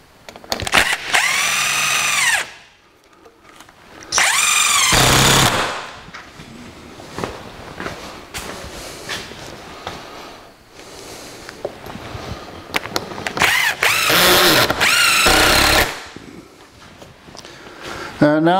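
A power drill drives screws into wooden boards on a timber gantry crane build, in several loud whirring bursts whose pitch rises and falls as each screw seats, separated by quieter pauses with faint handling noise.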